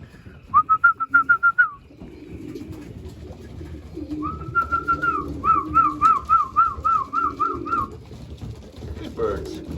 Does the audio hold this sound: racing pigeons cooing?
yes